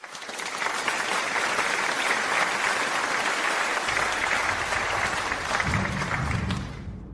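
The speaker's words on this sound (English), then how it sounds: "Let's give them another round of applause as they take their seats" An audience applauding, dense sustained clapping from many hands that holds steady for several seconds before tapering off at the end.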